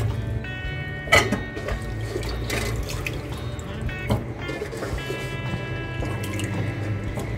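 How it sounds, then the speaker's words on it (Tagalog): Water running from a tap and splashing into a cooking pot holding washed chicken feet, a steady continuous pour with occasional louder drips and clanks, close and fairly loud, with no talking. "Lagyan natin ng tubig."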